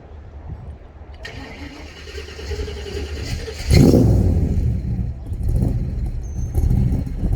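An unfinished FFR MKII car's engine starts for the first time: quiet ambience and faint voices give way to a loud catch, then a rough, rumbling idle with a few blips.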